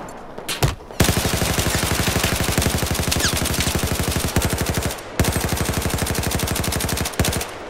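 Suppressive automatic fire hammers away in Battlefield 4, long loud rapid bursts of evenly spaced shots from close by, broken by brief pauses between strings.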